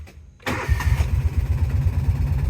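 A 1995 Kawasaki Mule KAF620A utility vehicle engine cranks briefly, catches and settles into a steady, throbbing idle, loud and close, with no talk over it.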